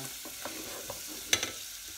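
Sliced vegetables for pea and courgette soup cook in a pan with a soft, steady sizzle, joined by a few light taps and one sharper clink of a utensil.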